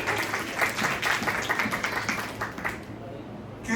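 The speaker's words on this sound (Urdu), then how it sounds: "شاباش. تالیاں بجائیں." A church congregation applauds during a Good Friday sermon, many hands clapping in a brisk, dense patter for about three seconds before fading out.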